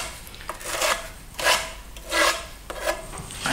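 A Bondo blade scrapes across a fresh FirmoLux plaster finish in four broad rasping strokes, each a swelling, gritty swish with short pauses between, close and fairly loud with no voices.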